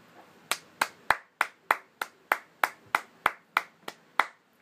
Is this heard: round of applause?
yes